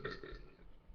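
A single short, throaty burp, let out during a burping contest. It is fairly close and moderately quiet, and it fades out quickly with no speech.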